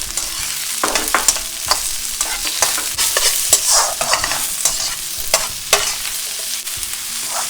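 Onion, ginger and garlic sautéing in a pan for Gobi Manchurian, a loud close sizzle broken by repeated scraping strokes of a spoon stirring, with no voices.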